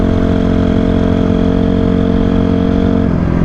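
The engine of a Honda CRF 250R dirt bike runs loud and close, holding a steady, rough, buzzing note for about three seconds before the pitch shifts slightly near the end.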